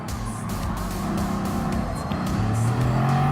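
Bugatti Vision Gran Turismo under throttle in a Gran Turismo Sport one-make race, a loud steady engine drone whose pitch climbs through the clip as the car accelerates.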